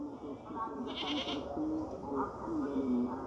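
Goat bleating in a rural farmyard, a few wavering cries rising over steady voices talking nearby, with background clatter throughout.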